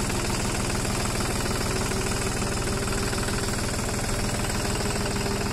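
A steady, loud engine idles with a rapid, even knocking rhythm throughout, close by and continuous, with no voices.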